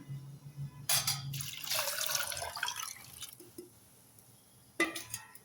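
Water poured from a glass into a cooking pot of potatoes and garlic in three splashing pours, the middle one longest. The pouring is close and gurgling, with faint clinks between pours.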